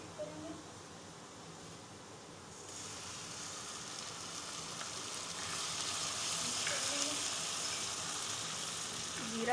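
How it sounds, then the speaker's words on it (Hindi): Ginger garlic paste with cumin sizzling in a pan of reddened onions for a Sindhi chicken and potato curry, a steady close frying hiss that swells slightly louder partway through, with occasional faint stirring scrapes. "अदरक लहसुन और ज़ीरा हमारा फ्राई हो गया है"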